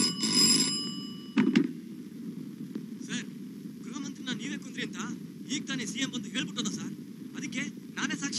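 A telephone bell rings briefly and loudly at the start, then gives way to someone talking over steady indoor room tone.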